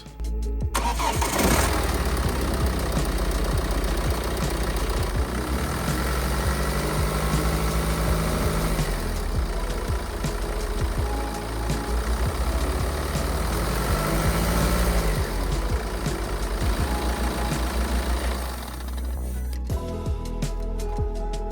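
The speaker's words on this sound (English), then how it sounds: "Then I fired up the engine to make sure it was all good." A BMW F10 engine cranks and catches after crankshaft pulley replacement, then settles into a steady idle that runs on for about twenty seconds, close and fairly loud.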